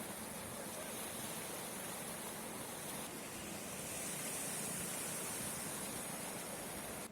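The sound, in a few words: rushing floodwater after heavy rain in Haldwani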